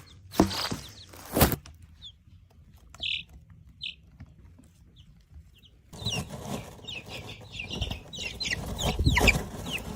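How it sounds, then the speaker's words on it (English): Young chickens, from day-old chicks to weeks-old pullets, cluck and peep in short scattered calls, sparse at first and then a busier, continuous chorus of chirps near the microphone, with a few bumps of handling noise. "I'm going to play several clips spanning from my day old chicks to my many weeks old chicks"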